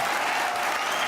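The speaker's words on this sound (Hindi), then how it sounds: "समाजवादी पार्टी ने ही ताली बजाई" An audience applauding at a comedy poetry event, with dense, steady clapping that is close and loud throughout the brief moment.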